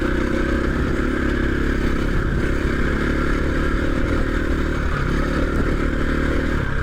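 Trail motorcycle ridden on a Dales route, its engine droning steadily and loudly throughout with a constant rumble and mechanical clatter, close to the rider and without any talk.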